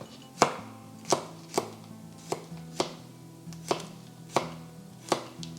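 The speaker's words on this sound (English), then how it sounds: "we're going to go in with 6 garlic cloves, and we're just cutting it down before we add them to the jar" A knife chops six garlic cloves on a cutting board for a green chicken curry, eight distinct, evenly spaced thuds, close and crisp with quiet room tone between strokes.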